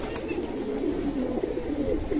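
Moyna Jhak pigeons, a black breed, coo softly and repeatedly in a low throaty rhythm, fairly close but quiet, over a steady background hum.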